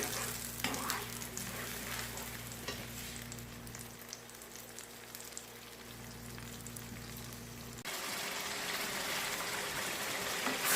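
Ginger chicken being stir-fried in a pan, a steady close sizzle with stirring scrapes that drops to a quieter, rougher hiss partway through, no voices.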